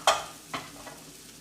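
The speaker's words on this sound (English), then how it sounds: "You take our onions and push them off." Onions frying in a pan for a meatless lasagna sauce: a sharp scrape as a utensil pushes them aside, then a second softer stir, over a faint sizzle.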